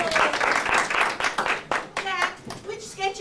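Studio audience applauding for a radio singing group, a burst of clapping that thins out under overlapping voices and chatter.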